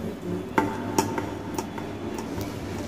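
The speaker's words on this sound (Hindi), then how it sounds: "इसे मैं अच्छी तरह से सारे नींबू और मिर्ची में मिक्स कर दूंगी।" Salt and ground spices being mixed into lemon and green chili pieces for a pickle, heard as a few sharp clinks and taps of a spoon against a bowl, spaced irregularly over soft stirring.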